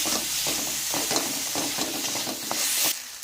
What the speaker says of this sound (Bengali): ওর মধ্যে হলুদ গুঁড়ো দেবো ভালো করে মশলাটাকে কষাবো